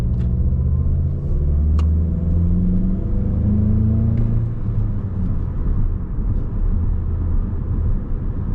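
Manual 2018 Volkswagen Golf GTI heard from inside while driving onto a highway, a steady engine drone and road rumble with rising engine pitch as it accelerates, a few faint clicks, no talking.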